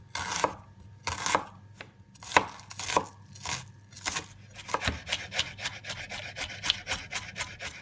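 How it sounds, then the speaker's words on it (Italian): A knife chops onion finely on a cutting board, giving crisp, close-up taps. They start spaced, then run in a quick, steady rhythm, with no talking. "Tritare finemente la cipolla."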